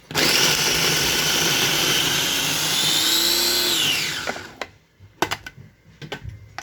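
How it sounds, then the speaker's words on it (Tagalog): Food processor mincing onions: a loud, steady whirring motor runs for about four seconds, winds down, then a few clicks and clatters of the lid and bowl follow. "Put in food processor and mix it."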